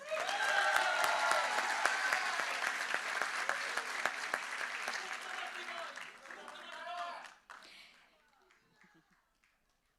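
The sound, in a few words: audience applause for the governor candidates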